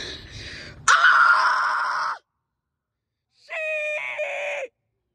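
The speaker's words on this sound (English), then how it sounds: "I'm gonna go scream into the distance for no fucking reason." A person lets out two loud, drawn-out outdoor screams, one of about a second and a half and a second shorter one after a silent pause, each sharp and strained.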